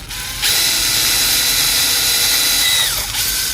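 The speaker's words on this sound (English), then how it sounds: "next I'm going to drill the hole for the handset cable to come through" Power drill with a 5mm bit boring a hole in plastic for a model railroad telephone handset cable, a loud steady high whine lasting about two and a half seconds before spinning down.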